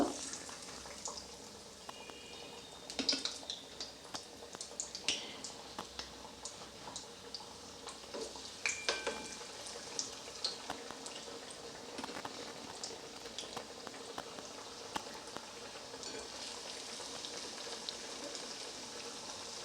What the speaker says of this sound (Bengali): কড়াইতে তেল গরম হয়ে গেছে, বেশ ভালো মতোই গরম হয়ে গেছে। আঁচটা আমি মিডিয়াম করে দিয়েছি। এবার আমি কাটলেটগুলো এর মধ্যে একটা একটা করে